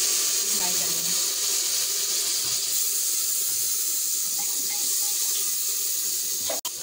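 Water is poured from a tap-like stream into a cooking pot of spiced masala for a chicken and aubergine curry, a steady hissing splash running close and continuous for several seconds, then stopping abruptly.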